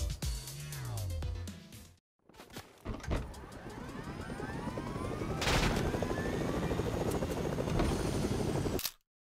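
A helicopter in the Fortnite video game whirs steadily with loud rotor and engine noise. A falling engine tone comes first, then after a short gap the rotor drone builds and carries on loud and unbroken.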